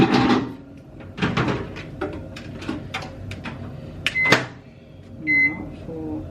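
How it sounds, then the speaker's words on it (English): A microwave oven runs with a steady hum while chocolate heats inside, punctuated by clunks and rattles of kitchen cupboards or the door nearby, with someone talking over it. "So I'm going to pop this one in the microwave."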